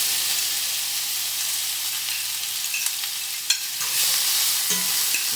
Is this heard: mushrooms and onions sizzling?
yes